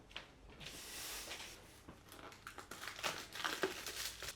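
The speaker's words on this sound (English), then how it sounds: "You're just going to cover it tightly with foil." Aluminium foil crinkles and rustles as it is pressed tightly over a dish, a run of close, dry, irregular crackles that grows busier toward the end.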